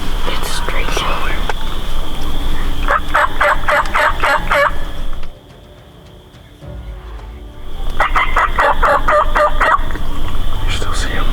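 A wild turkey gobbles repeatedly while strutting in the open during a spring hunt, with loud rattling gobble bursts in two clusters around a brief quiet gap, set against steady outdoor background noise.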